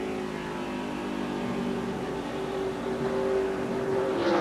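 NASCAR stock cars racing at the 2005 Sylvania 300 drone from a distance, a layered engine whine rising gradually as cars come back on the throttle, faint and continuous without talk.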